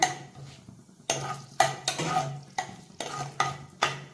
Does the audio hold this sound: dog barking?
no